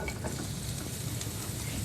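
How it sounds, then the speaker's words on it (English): Green peppers sizzle in olive oil in a pan on a natural gas cooktop, a steady close hiss of frying with light stirring throughout. "Hear that sizzle on the natural gas cooktop."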